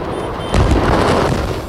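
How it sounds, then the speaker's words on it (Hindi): Explosions at a firecracker factory in Harda: a dull continuous roar jumps into a heavier, louder rumbling blast about halfway through, dense and booming with no speech over it. "कैसे पटाखा फैक्ट्री में हो रहे एक के बाद एक धमाकों से धरती भी कांप रही थी"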